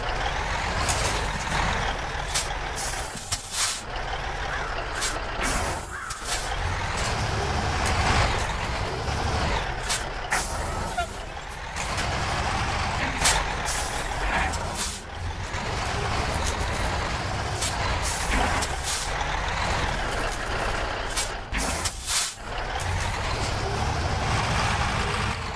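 Ural Polyarnik truck on huge oversized tires in Spintires, its heavy diesel engine droning loud and continuous, with air-brake hisses and short bursts breaking up the steady roar throughout.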